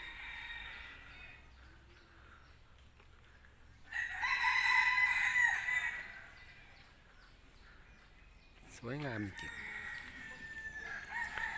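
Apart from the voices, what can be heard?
bantam rooster crowing near peacocks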